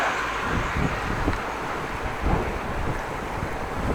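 Steady wind rushes and buffets across the microphone while a bike rolls along a southwest breeze in Groningen, a continuous fairly loud roar with gusty swells and no talking.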